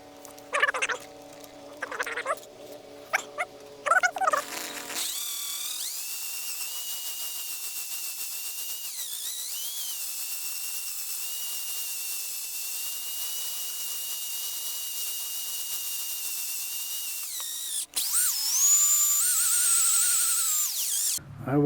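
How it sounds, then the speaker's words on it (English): A ball hone spins inside an engine cylinder of a 1999 Ford 4.2 with a steady, loud, high whine that runs for about thirteen seconds, then rises in pitch near the end. Brief tool handling comes first. "I will take the ball hone to it."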